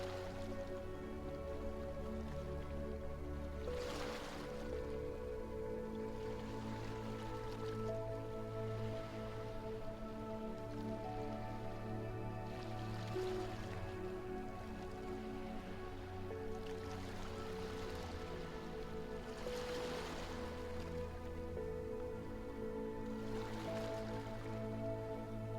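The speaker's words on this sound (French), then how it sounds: "Laissez les vagues successives vous bercer de leurs flux et reflux." Gentle ocean waves wash onto a shore in soft surges every few seconds, low and steady beneath a sustained musical drone, with no voices.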